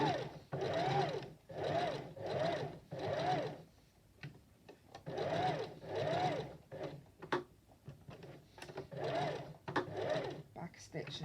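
A sewing machine stitches cotton calico fabric for a doll, running in repeated bursts of a second or so with short pauses, then quicker back-and-forth stitching toward the end, heard up close.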